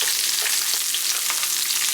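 Onions fry in a pan with a dense, even sizzle and crackle that stays close and constant throughout, with no voices.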